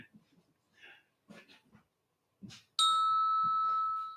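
A single electronic bell tone from a sound-effect box rings out loud and sustained, fading slowly, after a few short soft sounds and a brief voice-like murmur.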